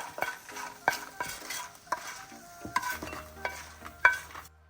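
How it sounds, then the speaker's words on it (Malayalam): Dried red chillies fry in hot oil in a pan, a soft sizzle broken by repeated scraping stirs and light clinks of a spoon against the metal, close and alone. "വറ്റൽമുളക് ചെറുതായിട്ടൊന്ന് കറുത്ത് വരുമ്പോൾ നമുക്കത് മാറ്റി വെക്കാം"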